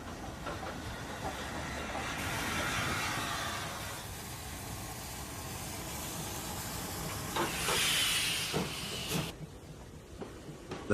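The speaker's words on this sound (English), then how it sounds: "Knysna's newly restored station is a tourist drawcard with its daily steam train excursions." A steam train at the restored Knysna station hisses loudly in long bursts of steam, with clanking and rail rumble underneath and a few sharp knocks near the end.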